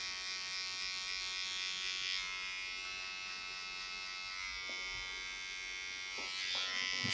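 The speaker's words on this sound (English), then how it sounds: "go around the edges with the trimmer just to get rid of any of the neck hair" An electric hair trimmer buzzes steadily and fairly quietly as it tidies the neck hair at the edges of a medium-length wavy haircut. The hum is continuous, with a few faint touches and clicks and no speech.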